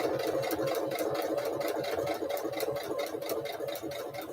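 Sewing machine stitching a quilt, a steady mechanical whir with rapid even ticking from the needle, running continuously and close with no talk.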